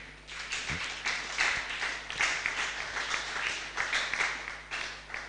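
A church congregation claps and cheers in acclamation of the Lord during a French-language worship service, a dense, steady wash of applause with scattered sharper claps lasting throughout, loud and close.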